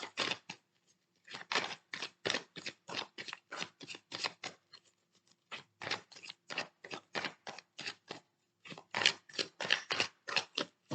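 Oracle cards shuffled by hand, a rapid run of crisp, close snapping riffles in quick bursts with a couple of brief pauses, clear and alone without any talk.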